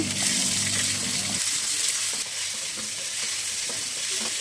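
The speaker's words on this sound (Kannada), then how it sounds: "ಫ್ರೈ ಆಯಿತು ನೀರುಳ್ಳಿ" Onion and peanuts fry in hot oil with mustard seeds and garam masala, a loud close crackling sizzle that dips slightly midway and continues steadily with no voices.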